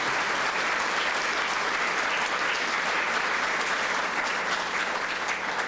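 A church congregation applauds steadily throughout, a dense, even patter of clapping hands that stays at a constant level from start to finish.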